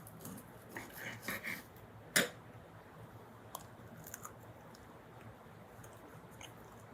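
A small slice of homemade sourdough bread eaten up close, with soft, faint chewing, one sharp crunchy bite standing out, then quieter sporadic mouth sounds.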